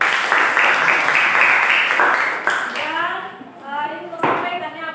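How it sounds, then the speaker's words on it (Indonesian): Students in a junior high civics classroom clap for group presentations, a bright, dense patter for nearly three seconds that fades as a teacher begins talking, with a brief second flurry near the end. "Tepuk tangan dulu."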